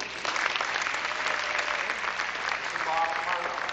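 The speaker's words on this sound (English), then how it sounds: "please give him a round of applause" Audience at a 1992 high school band spring concert applauding, steady clapping from a crowd, moderately loud and sustained, with a faint voice audible over it near the end.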